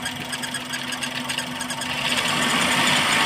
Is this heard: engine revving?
yes